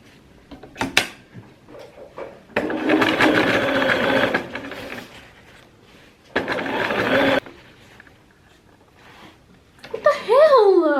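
A sewing machine stitches Halloween costume fabric in two short whirring bursts of a few seconds each, close and fairly loud, separated by quiet pauses, with a voice speaking briefly at the end.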